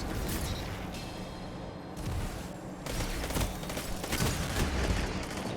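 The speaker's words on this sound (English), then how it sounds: "it's a fusion rifle, but it just shoots like normal bullets" Rapid, continuous gunfire from a fusion rifle that shoots like ordinary bullets in Destiny 2 Iron Banner play, sustained bursts with booming impacts in a dense, loud battle mix with no talking.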